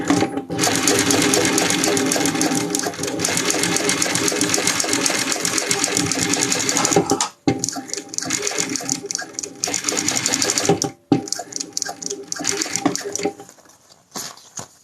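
Sewing machine stitching a motorcycle seat, a loud, close, rapid mechanical chatter running steadily, then halting briefly twice before restarting in shorter bursts and winding down near the end, with no speech over it.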